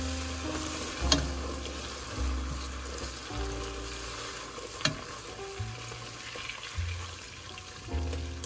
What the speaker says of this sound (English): we're gonna wait for our butter to get browned